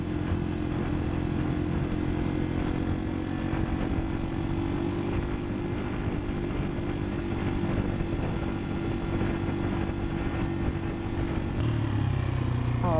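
Yamaha off-road motorcycle engine running steadily while ridden on a dirt road, a loud continuous drone throughout with no talk.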